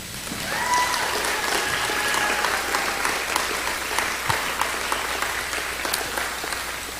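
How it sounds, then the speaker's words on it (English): An audience at a student athlete signing day claps steadily in sustained, moderately loud applause that holds for several seconds, a dense patter of many hands with no voices on top. "Let's take a moment to give a round of applause for these athletes and families who are here today."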